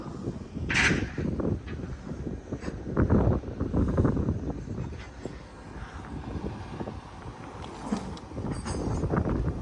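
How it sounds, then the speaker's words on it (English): Steady blustery, cold wind at June Lake roars and buffets throughout, loud and close, with occasional gusts rising over the constant rush. "Windy and cold."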